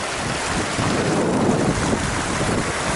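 Strong gusty wind buffets the microphone beside a river during a fly-fishing outing, a loud continuous roar of broadband rumble that stays steady throughout with no talking.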